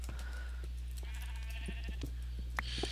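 A sheep in the Minecraft video game bleats twice in quick succession, clear and fairly close, over a low steady background hum.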